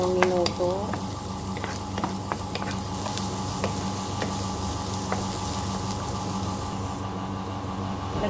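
Ginger and garlic sautéing in a pan for shrimp biryani, a constant close sizzle and frying hiss with a few stirring clinks and scrapes near the start.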